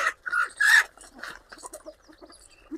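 Free-range desi (indigenous Indian) chickens cluck in short, irregular bursts close by, with several birds calling over one another in a quiet yard.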